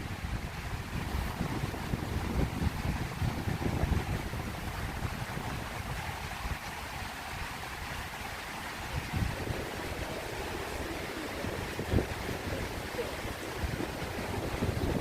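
Wind blows constantly outdoors on an evening in Manhattan, New York City, rumbling against the microphone in uneven gusts over a broad background wash.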